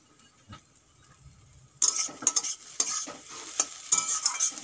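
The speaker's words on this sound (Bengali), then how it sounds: "আলু আর ডিম সুন্দর করে ভাজা হয়ে গেছে" Potato and egg fry in a pan with mint leaves while being stirred. The clip opens quietly, then loud close sizzling breaks out with repeated scraping strokes and light clinks of the utensil against the pan.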